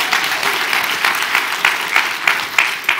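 A church congregation claps and cheers in a sustained burst of applause, dense hand claps filling the room with a few sharper peaks, loud and close throughout.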